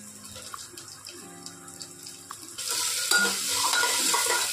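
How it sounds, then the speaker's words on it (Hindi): Chickpeas tempered for bhaji, first quiet kitchen sounds with faint tones, then a loud sudden burst of hot-oil sizzling as they hit the pan, continuing with stirring to the end. "बहुत जल्दी भाजी में छोला छौंक रही हूँ"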